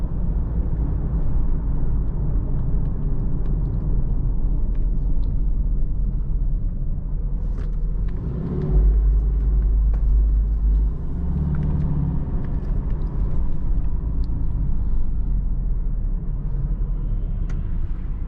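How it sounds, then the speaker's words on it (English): From inside a 2013 Subaru Outback 2.5i Premium on a test drive, the engine and road noise form a steady low rumble that swells slightly under throttle, with a brief deeper thump midway. "You kind of have to put your foot into it a decent amount to get moving."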